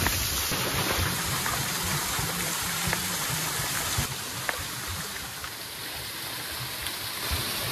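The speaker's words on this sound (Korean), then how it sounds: "물레방아가 있습니다." Steady rushing stream water flows past a turning water wheel on a mountain trail at Mungyeong Saejae, Juheulsan, a broad continuous wash with faint splashes, no voices.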